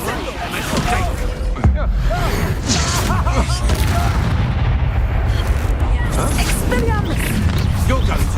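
An Expulso spell in Hogwarts Legacy sets off booming, explosive blasts in the middle of dense, loud combat, with voices shouting over the din throughout.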